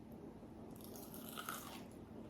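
Close, crisp crunching from biting into crispy fried dumplings, a steady run of crackly bites with no talking.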